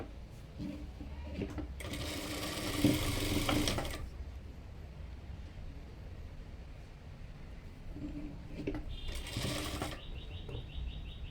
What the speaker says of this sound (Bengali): তো দুটি শোল্ডারে আমি সেলাই করে দিচ্ছি, এখানে ডাবল সেলাই দিয়ে নিচ্ছি।